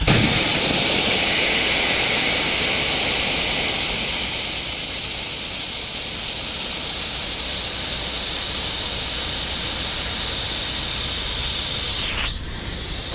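Compressed air rushes from a hose on an old system not run in ten years, a loud, steady broadband hiss that holds for about twelve seconds before a sharp sweep near the end.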